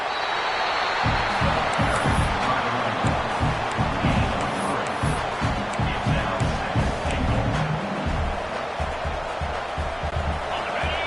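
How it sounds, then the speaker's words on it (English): Football stadium crowd at an Oregon playoff game roars steadily as the defense holds in the red zone, a dense, continuous wall of cheering and yelling with scattered claps throughout. "the crowd coming to life here, trying to help this defense down in the red zone."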